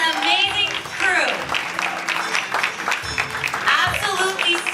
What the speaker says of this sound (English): Everyone, please give a huge round of applause to our beautiful models and amazing crew.